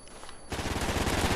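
Automatic gunfire from Call of Duty Ghosts multiplayer, starting abruptly about halfway through as a loud, dense, rapid burst of shots that keeps up to the end.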